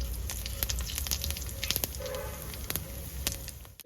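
Whole cumin seeds with dried red chillies sizzling in hot oil in a rural Bengali kitchen, a steady quiet frying hiss broken by sharp pops and spits throughout.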